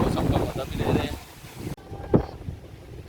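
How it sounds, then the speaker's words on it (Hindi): Strong wind buffets the microphone with a loud, roaring rumble that suddenly drops away, leaving quieter air and a brief voice. "बहुत तेज़ हवा है।"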